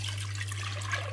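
Water splashing and rushing as it is poured into a cooking pot of coconut milk, a brief continuous gush heard close up over a steady low hum.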